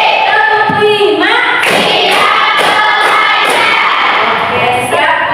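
A classroom of students claps in a counted rhythmic pattern, loud sharp claps in evenly spaced bursts mixed with children's voices chanting along.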